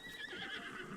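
A horse neighs in Zelda: Breath of the Wild, a steady whinny lasting about a second with clip-clop hoofbeats underneath and no talking.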